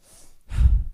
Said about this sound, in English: The last style of breathing we'll do is a 2-part breath through the nose and a passive exhale through the mouth.